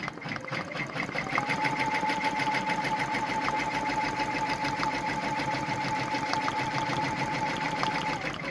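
A Brother PR1055X embroidery machine stitches a monogram applique, giving a steady, fast mechanical whir with a rapid even needle rhythm that runs loud and unbroken throughout, with no talking.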